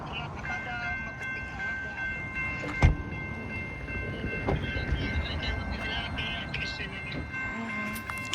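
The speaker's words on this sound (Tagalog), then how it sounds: "Capital Corridor train 538 now arriving at West A Street." Amtrak Capitol Corridor passenger train 538 passing through Dixon, California, a sustained rumbling roar with rail clatter and a sharp bang, heard from trackside, with a voice talking over it.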